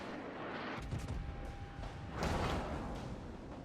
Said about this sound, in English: Nice salvo.